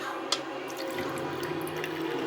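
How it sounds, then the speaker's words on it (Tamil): Water from a pressure cooker is poured into a mixer jar while making jackfruit halwa, a short, steady splashing pour with one small clink at the start. "இந்த குக்கரில் இருக்க தண்ணியை ஜாரில் சேர்த்துக்கலாம்."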